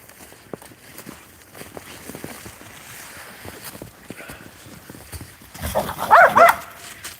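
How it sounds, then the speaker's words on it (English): Dogs romp through snow with scattered crunching footsteps and movement, building to a louder burst of barking near the end. "You crazy dogs."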